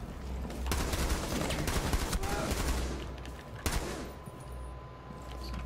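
Weapon fired with a reflex sight, flash hider and muzzle brake in a tactical shooter video game, rapid overlapping gunshots in loud bursts with a sharp shot near the end, steady battle noise throughout.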